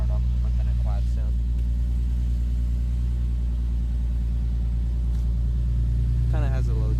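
Infiniti G37 sedan fitted with a Stillen catback exhaust idles with a steady, deep low-toned rumble that holds close and constant throughout, with brief voices talking over it near the start and end.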